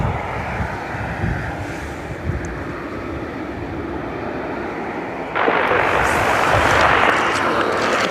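A Ryanair airliner from Newcastle passes over an airport, a broad distant engine roar mixed with wind buffeting that swells louder partway through and holds steady.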